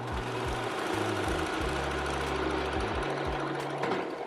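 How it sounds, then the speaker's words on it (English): A serger runs steadily along the edge of a shirt fabric, a continuous close mechanical hum with rapid stitching chatter and slight speed changes throughout. "we're gonna go ahead and serge the edge and just fold it down"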